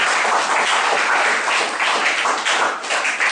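Church congregation applauding together, a dense and loud burst of clapping that holds steady for a few seconds.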